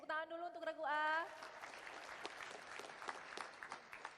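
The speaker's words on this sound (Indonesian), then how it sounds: "Tepuk tangan dulu untuk regu A." Audience applause for a team at a school quiz competition, a steady patter of clapping following a brief spoken phrase at the start.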